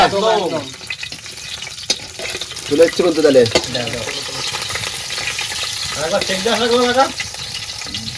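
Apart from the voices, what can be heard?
fish frying in a pan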